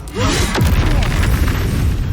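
A loud explosion in Baldur's Gate III: a deep, booming blast that rolls on as a sustained, rumbling roar for about two seconds.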